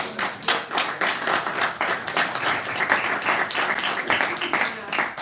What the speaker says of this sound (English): Round of applause for Dorothy.